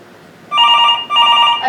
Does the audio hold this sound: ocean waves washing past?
no